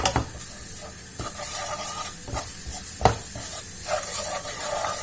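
Garlic, spices and chili paste fry in hot oil, a close steady sizzle broken by several sharp stirring scrapes and knocks of a utensil against the pan.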